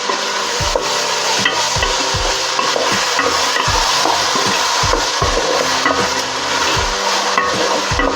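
A spoon scrapes and knocks repeatedly around a pot as fish, salt and turmeric are stirred, an uneven rhythm of close, loud clatters.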